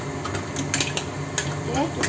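A metal pot lid clatters and clinks against a pot of clams cooking in a sweet-and-sour sauce, giving a few sharp close knocks over a low kitchen background.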